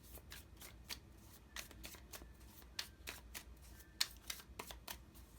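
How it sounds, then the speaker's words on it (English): Tarot cards are shuffled by hand at close range, a quiet series of crisp riffling flutters and soft taps repeating in short bursts, with no speech. "Let's pull some tarot cards and see what the tarot says here."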